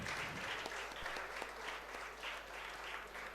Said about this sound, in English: Guys, a huge round of applause for Mr. Maheshwari, please.